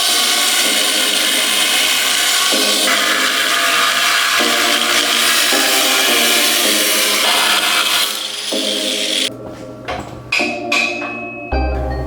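A power tool cuts steel for a custom rear bumper on a Toyota pickup, giving a loud, continuous high whine and grind for about nine seconds. It then stops, leaving scattered metallic clanks and rattles.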